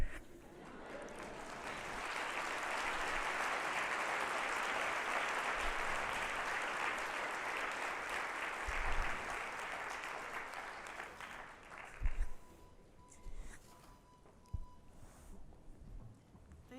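A conference plenary audience gives a steady wash of applause for about twelve seconds, fairly faint and distant, then it thins into a few scattered claps and room noise.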